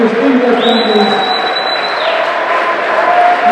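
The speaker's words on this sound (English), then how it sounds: "Let's have one final round of applause for all our incredible boys basketball seniors and their families." A gym crowd at a high school senior night for boys basketball gives a loud, sustained round of applause and cheering, with a long whistle-like tone ringing above the clapping for a second or so.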